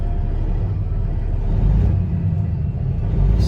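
A Kenworth W900L glider kit daycab truck with a single-turbo Cat 6NZ engine revs as a loud, close, deep rumble that holds steady and swells slightly partway through.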